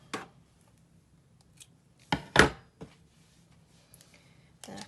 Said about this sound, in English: And then just snip that there.